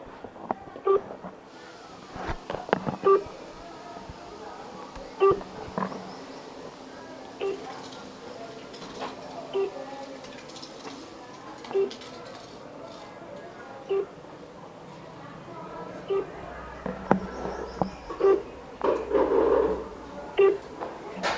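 A mobile phone call is placed and rings out unanswered, a faint repeating ring tone pulsing at even intervals for about twenty seconds under quiet background noise and occasional clicks.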